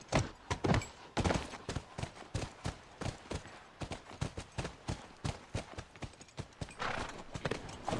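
Horse hooves in The Last of Us clip-clopping on hard ground, a run of close, uneven beats that speed up and slow down, with shuffling and a brief pause between bursts.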